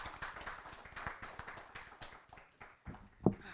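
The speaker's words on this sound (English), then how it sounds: "Round of applause." A small audience at a press convention gives a short round of applause, a dense patter of hand claps close by that thins out toward the end and closes on one sharp louder clap.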